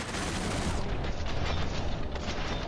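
Video game gunfire in Cepheus Protocol: a dense, continuous burst of rapid shots and mechanical clatter, loud and close throughout, with no talk.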